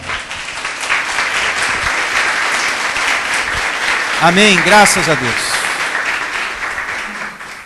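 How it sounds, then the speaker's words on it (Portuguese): Church congregation clapping in praise, a steady wash of applause through the whole stretch while someone speaks over it. "Louve ao Senhor com suas palmas."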